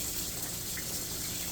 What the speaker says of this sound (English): Rinse off my spoon.